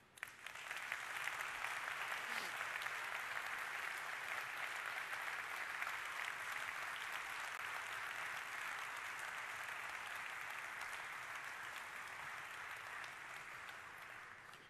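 Long, sustained applause from a large crowd at the 2018 BMW X3 world premiere at Plant Spartanburg, South Carolina, honoring plant associates; an even wash of clapping that slowly tapers near the end.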